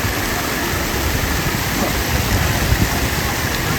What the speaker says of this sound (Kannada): ಆ ಸ್ಟೆಪ್ಸ್ನಿಂದ ನೀರು ಕೆಳಗೆ ಬರ್ತಾ ಇದೆ